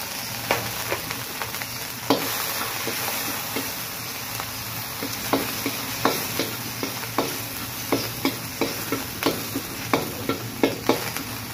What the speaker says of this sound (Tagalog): ilagay na natin ang ating luya at ang ating bawang.